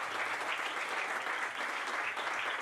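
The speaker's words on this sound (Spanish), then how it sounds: "Ahora ya podéis aplaudir." An audience at a stand-up comedy show at Sala Auren applauding, dense and steady clapping from many hands that holds at an even level throughout.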